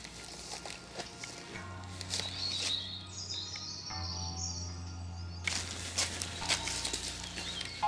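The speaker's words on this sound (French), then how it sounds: "Je vous laisse profiter du chant des oiseaux aussi." Birds sing outdoors on the grounds of an abandoned estate, with thin, high chirps and trills that rise and fall over a soft, steady outdoor hiss. No talking is heard.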